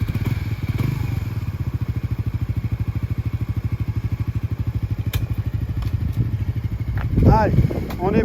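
Motorcycle idling during a licence exam, a steady, rapid engine putter with regular firing pulses, close and fairly loud, a few clicks and clunks near the end as it revs or moves off.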